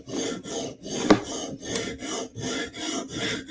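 A knife is sharpened on a Hapstone RS sharpening system, with rhythmic back-and-forth rasping strokes about every half second, close and clear with a single sharp click partway through.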